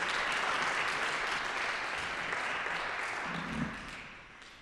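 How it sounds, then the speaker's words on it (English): A conference audience at an arts event gives a round of applause, a dense, steady wash of clapping from a crowd that holds for several seconds and then fades out near the end. "Round of applause."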